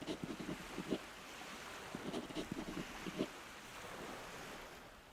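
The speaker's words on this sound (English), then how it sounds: "The small boat the thief prepared beforehand bobs gently on the water." Water laps softly against a small boat in a quiet bay in the video game NieR Re[in]carnation, with faint rhythmic splashes in clusters over a low, steady wash of surf and wind.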